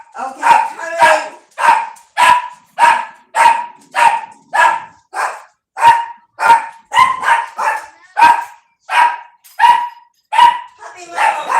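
A puppy barks at someone at the front door, loud and close, in a long series of sharp, evenly spaced barks, some coming in quick doubles.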